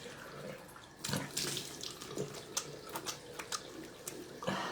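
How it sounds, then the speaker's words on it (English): Tap water runs into a sink while charcoal cleanser is rinsed off a face, a steady close splashing with bursts of louder splatter as hands move through the stream. "I'm not talking while I'm rinsing here"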